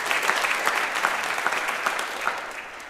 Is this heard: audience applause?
yes